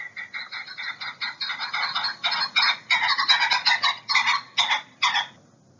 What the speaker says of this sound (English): The ring-necked pheasant, again, is a non-native bird that's actually native to Asia,